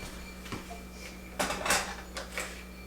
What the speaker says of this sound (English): Actually, I'm gonna put it back on the stove